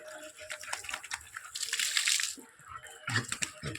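Water splashing as a pet dog named Dodo is bathed, irregular splashes and pouring swelling and fading nearby, with a soft voice briefly in the background.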